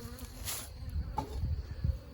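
Honey bees buzz around an opened hive box, a soft continuous hum with scattered nearer passes, brief knocks and handling noises of the box, and no talking.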